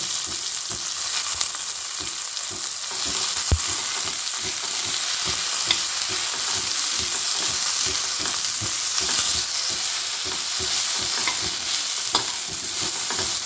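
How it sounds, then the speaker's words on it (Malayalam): Coconut, curry leaves and urad dal fry in a pan, giving a loud, even sizzle that runs the whole time, with rapid rhythmic scraping from constant stirring close by. "ഒന്ന് നന്നായിട്ട് ഇളക്കി കൊടുക്കുക"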